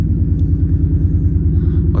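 A race car with custom dump exhausts idles high, a loud, deep, throbbing rumble with a steady pulsing beat that holds constant from start to finish.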